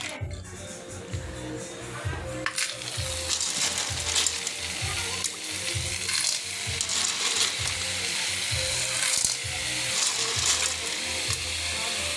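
Snails cooking in a pan for a Filipino Sunday meal, giving a continuous loud sizzle with rhythmic stirring clatter throughout and no voices.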